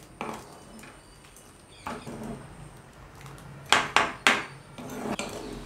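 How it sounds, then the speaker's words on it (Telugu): A spoon scrapes and knocks against a pan while jaggery melts into tamarind pulp for a sweet red chutney, giving scattered soft scrapes and then a cluster of three sharp metallic clinks, close and clear. "నెమ్మదిగా తిప్పుతూ ఉండండి."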